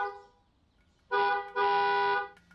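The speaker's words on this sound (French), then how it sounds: "Et il klaxonne" A car horn blares in two long, loud blasts, the second held for almost a second, after a fainter tonal sound fades out; no one speaks.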